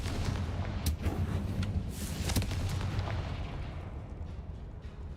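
A structure collapses in Hogwarts Legacy with a heavy rumbling crash and sharp cracks early on, then debris settling into a fading low roar, while a voice briefly exclaims in surprise.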